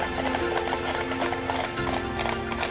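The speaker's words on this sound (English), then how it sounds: "The sudden appearance of these 6 huge horses makes everyone curious." A team of six huge horses pulls a twelve-seat wagon, their hooves clip-clopping in a busy, overlapping rhythm close by, with steady rumbling underneath.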